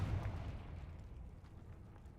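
A deep booming blast from a Confringo spell in a video game, loudest at the start and then rolling off into a rumbling decay with faint crackles.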